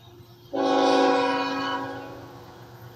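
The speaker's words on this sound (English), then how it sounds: "I hear the whistles. The horns, rather. That would be a westbound coming." A westbound freight train carrying containers and auto racks sounds a long, loud, steady horn blast that starts abruptly and then slowly fades, heard from trackside with no talking.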